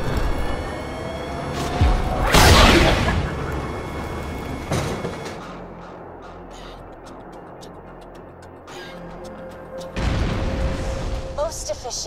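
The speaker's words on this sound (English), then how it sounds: "Please fire the cannon again." In the video game Borderlands, a cannon fires a heavy booming blast early, with further thuds and mechanical rumbling beneath synthetic voice-like tones, then a second loud burst near the end.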